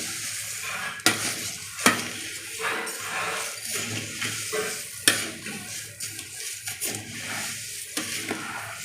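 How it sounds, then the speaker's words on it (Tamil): Roasted spice ingredients for podi kulambu powder are mixed together in a pan, with a rough scraping and shuffling texture and a few sharper knocks of the utensil, close and continuous for several seconds with no speech. "இப்போ எல்லா பொருளையும் சேர்த்து நல்லா மிக்ஸ் பண்ணுவோம்"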